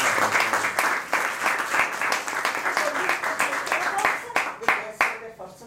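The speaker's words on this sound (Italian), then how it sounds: "c'è un applauso per me" An audience applauding during a talk, a lively burst of many hands clapping with uneven, sharp individual claps, fairly close, with some voices mixed in.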